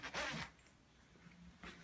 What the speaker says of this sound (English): Zipper up, zipper down.